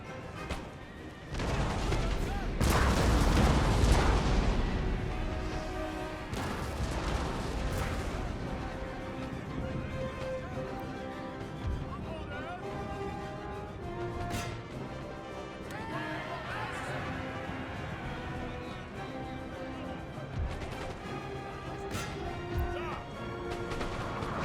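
Cannon fire on a Napoleonic battlefield in Napoleon Total War, with a heavy boom early on followed by scattered crashes, horses whinnying and distant battle noise at a fairly low level.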